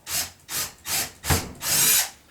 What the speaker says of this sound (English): So what I want to do now is just make a guide hole through both sides.